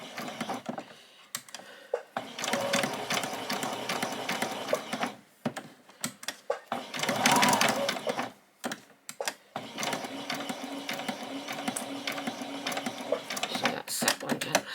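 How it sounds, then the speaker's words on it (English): An embroidery machine stitches in quick mechanical bursts, rattling and whirring close by with short pauses between runs. "that's just my machine, it does that because it's an embroidery machine"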